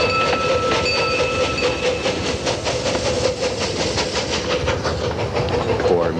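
Quarter-scale model of the SP 4449 Daylight steam locomotive running on a small oval track, its steady chuffing and clickety-clack of wagons rolling continuously and fairly loud, with a high whistle-like tone and hiss over the rumble.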